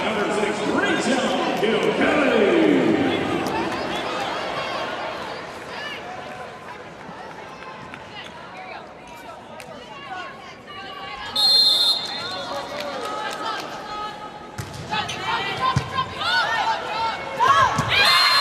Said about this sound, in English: Crowd here at the PAV trying to get in it